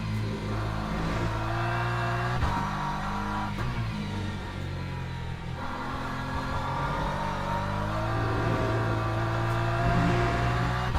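BMW M4 GT3 race car in Le Mans Ultimate at Circuit of the Americas, engine droning and revving steadily with shifting pitch, continuous and fairly close, no voices.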